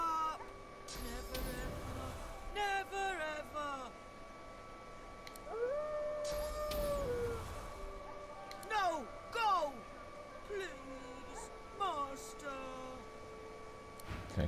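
Dog howls with long, rising and falling wails in the Divinity Original Sin 2 video game, mixed over game music with someone talking throughout.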